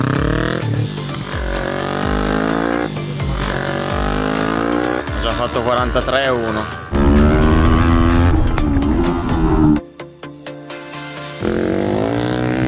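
A Yamaha R3 motorcycle engine screams at high revs on a race track, rising and falling through gear changes, loud and close, with a person speaking briefly over it.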